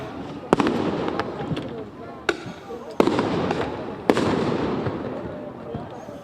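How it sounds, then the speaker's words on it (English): Sharp flashbang blasts set off by law enforcement at a UCLA protest encampment crack out several times at irregular intervals, echoing over constant crowd noise and shouting. "These are flashbangs coming from law enforcement"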